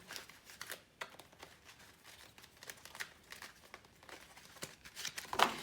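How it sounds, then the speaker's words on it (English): Oracle cards are shuffled by hand, a run of soft papery riffles and crinkly flicks in uneven bursts, close but faint, with no one speaking. "As soon as I finish this shuffle."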